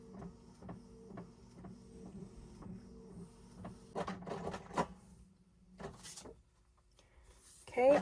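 A home printer runs through a sticker sheet with a steady ticking mechanical rhythm, then louder clunks and whirs of the paper feed near the end, nearby and fairly quiet.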